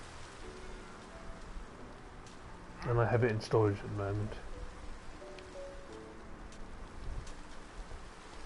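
Rainfall in the video game Minecraft: a soft, steady patter of drops under someone talking, with faint cooing birdlike tones in the background, quiet and continuous throughout.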